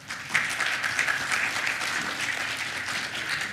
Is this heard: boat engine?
no